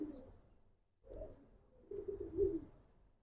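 A khaki male Giribaz pigeon coos close by in a quiet loft, three soft, low, throaty bursts separated by brief pauses, the last one longest and strongest.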